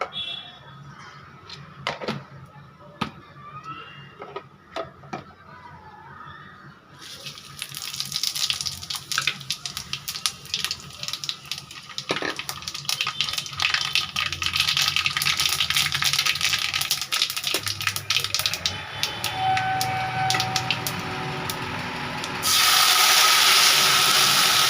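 Dried-mango soaking water with turmeric is poured into a cooking pot. After a few quiet clicks, a steady splashing rush starts and grows louder and fuller, then ends in a brighter gush.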